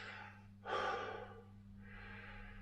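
A person catches their breath with a heavy, audible breath around the middle, followed by a softer exhale, close and quiet over a steady low hum.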